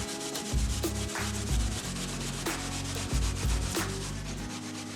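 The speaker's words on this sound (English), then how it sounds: "We're going to grate the yam." Yam being grated by hand for Jamaican sweet potato pudding, producing continuous close, rough scraping with a steady back-and-forth rhythm and no talking.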